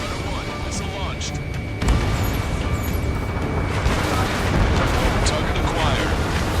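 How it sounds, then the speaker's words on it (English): In the Ace Combat 7 flight game, a missile launches and detonates against a constant roaring jet engine and rumble, with a stronger burst partway through and radio chatter over the top. "Strider 1, missile launched."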